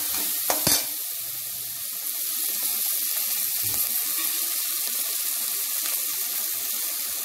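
Onion and crushed garlic sizzle steadily in a pan while frying for a simple poriyal, a constant hiss with a couple of brief clinks near the start and no talk.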